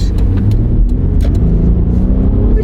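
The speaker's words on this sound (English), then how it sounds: "See what this V6 engine can still do." Hyundai or Kia V6 car engine with 166,000 miles revving under acceleration, a loud, close, deep rumbling drone held steady with faint ticking transients on top.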